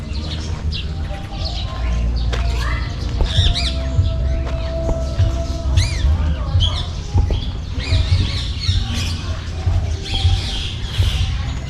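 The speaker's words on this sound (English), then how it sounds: "Peacock just chilling." Peacock squawking at a Filipino beach resort among doves and cockatiels, loud harsh calls repeating over several seconds above a busy bed of chirps, chatter and outdoor background noise.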